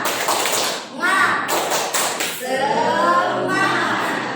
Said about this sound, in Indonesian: tepuk semangat dulu ya, biar semangat